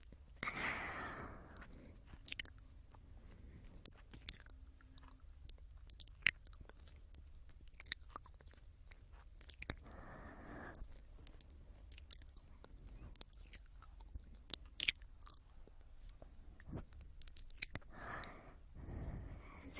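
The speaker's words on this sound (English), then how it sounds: "Mind if I have a taste of your wonderful" Close, quiet ASMR mouth sounds of nibbling and tasting ears: scattered wet clicks, soft bites and breathy sighs, sparse and intimate, with no talking.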